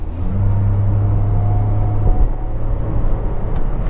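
Ford Figo with a 6-speed automatic gearbox cruising in drive mode, heard from inside as a steady low engine and road rumble with a faint whine, even and loud throughout.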